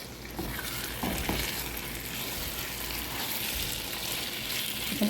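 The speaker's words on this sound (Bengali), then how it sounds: "এখন আমি আরও কিছুক্ষণ ভাজা ভাজা করে নেব" Hilsa fish heads and tail frying together with taro stems in a pan, a steady close sizzle with soft stirring scrapes and no talking.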